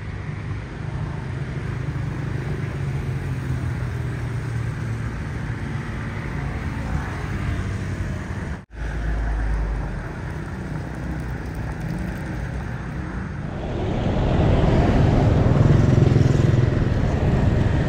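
Honda ADV 160 scooter ridden through city traffic in Vientiane, its engine a steady close drone with road and wind noise throughout, briefly dipping around the middle and growing louder and rougher near the end.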